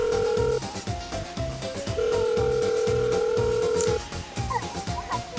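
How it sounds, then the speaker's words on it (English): A telephone rings twice in long steady tones with a pause between, loud and close, with faint clatter in the background. "All right, it's ringing."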